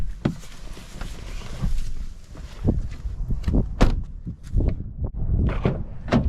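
Rear door of a Mazda CX-50 Meridian Turbo opened and shut with the engine off, close-up clunks and latch thuds scattered across several seconds, ending in a sharp slam over quiet cabin ambience.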